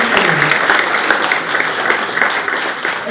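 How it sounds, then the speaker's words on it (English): Audience applause at a marine evening talk, a crowd clapping steadily and fairly loudly for the whole stretch, with a few voices faintly mixed in. "Can we do a round of applause?"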